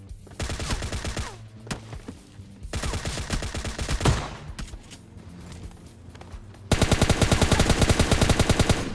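Repeated gunfire bursts in PUBG Lite, loud, close and rapid, with some heavy booming blasts, dense volleys and a final sustained fast-firing stretch, no talking.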